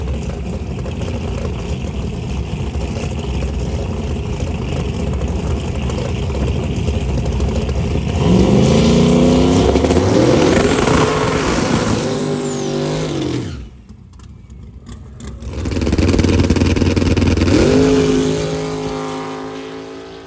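Naturally aspirated drag car making a pass at a test and tune session, roaring loudly through rising revs and gear changes, cutting off abruptly, then a second engine rising again and fading into the distance.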